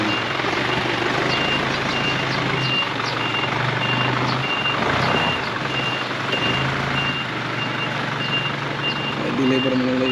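A delivery truck backs up at a home construction site where a kitchen extension is being built. Its steady reversing beeps repeat over a loud, continuous engine rumble, with faint voices in the background.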